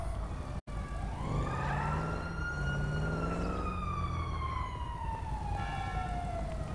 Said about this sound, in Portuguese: tô ouvindo a sirene já